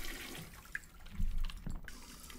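A toilet flushing in a 2D retro-style horror video game, a short muffled rush of water with a low gurgle in the middle, heard alone at moderate volume.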